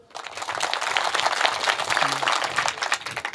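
Women in a kirtan audience clap together, a dense sustained round of applause filling the space for a few seconds, with a brief voice heard in the middle.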